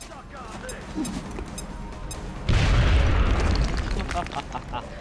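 Grenade exploding in XCOM: Enemy Unknown: a single heavy, close boom bursts out midway and decays slowly, with someone talking before and over it.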